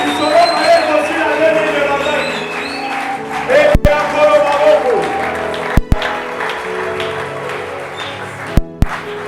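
A church congregation applauding: sustained, moderately loud clapping from many hands over a backdrop of music, broken by a few sharp louder claps.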